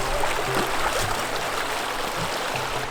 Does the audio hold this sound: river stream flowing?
yes